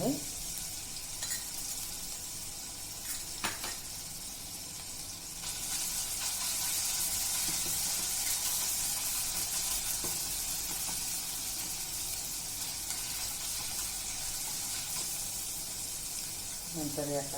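Ginger, garlic and carrot fry in a pan for soybean momos with a steady close hiss and sizzle that swells after a few seconds, and a few clinks are heard as the mix is stirred.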